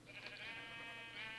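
Sheep in a Minecraft rainbow sheep farm give a steady, sustained bleat, a continuous tonal cry with no talk over it.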